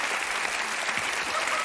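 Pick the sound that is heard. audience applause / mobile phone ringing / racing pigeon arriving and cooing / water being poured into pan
audience applause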